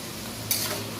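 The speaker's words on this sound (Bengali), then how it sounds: "ভালো করে ফ্রাই করে নিতে হবে।" Layered nimki dough frying in hot oil, a steady close sizzle throughout with one brief brighter crackle partway through, heard alone without talk.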